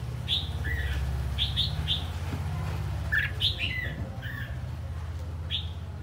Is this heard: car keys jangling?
no